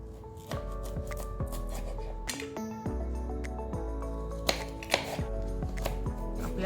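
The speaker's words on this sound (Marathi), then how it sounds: "आता त्याचे तुकडे करून घेऊ आपण" A knife taps steadily on a cutting board as fresh peeled turmeric root is cut into pieces for pickle, crisp repeated chops over a faint musical background, with a couple of louder knocks near the end.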